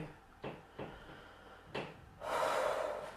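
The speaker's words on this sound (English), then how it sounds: "make that noise where you snort through the nose" Three short, sharp snorts through the nose, spaced apart, then a longer rushing nasal blast of air close to the microphone.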